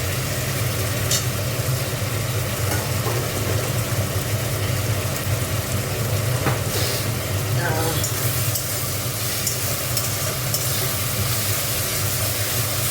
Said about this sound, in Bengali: আদা রসুনটা ভাজা ভাজা হয়।